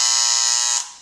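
An Andis Master hair clipper runs with too much blade stroke, making a loud, harsh, close buzzing rattle that holds steady for under a second before it cuts off.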